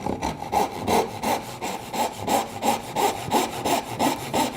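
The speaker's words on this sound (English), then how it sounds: "this is where we're going to cut our 45-degree" Hand saw cutting 45-degree miters in a wooden dovetail board held in a vise, about a dozen even, rhythmic rasping push-pull strokes, close and clear with no talk.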